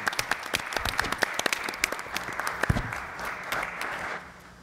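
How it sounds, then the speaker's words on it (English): Audience applause at a Newark municipal council special meeting, a dense burst of clapping that holds steady and then fades out toward the end. "I want you to give him a round of applause because he deserves it."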